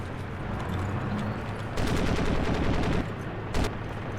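Gunfire in the PC game Crysis, with a steady rattle of shots that swells into a louder automatic burst, then a short sharp volley near the end.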